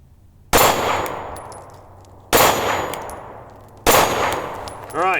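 Three spaced pistol shots from a SIG P365 XL each ring off steel targets with a loud sharp clang and a long decaying metallic ring, followed by a brief final burst.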